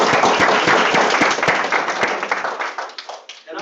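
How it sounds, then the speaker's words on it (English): Crowd clapping at a school district board meeting, a brisk burst of applause that thins out and fades toward the end. "I want to give all of us a round of applause"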